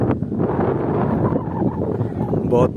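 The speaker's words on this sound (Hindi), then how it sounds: "बहुत तेज हवा बह रहा है।" Strong wind by a river buffets the microphone in a continuous rough roar, close and fairly loud, with a voice speaking briefly over it near the end.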